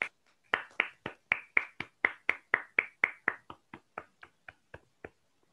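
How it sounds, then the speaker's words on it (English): A small meeting audience claps in a sparse, steady rhythm of about twenty distinct claps, fairly close and fading slightly toward the end, with no talk. "Let's give her a big round of applause."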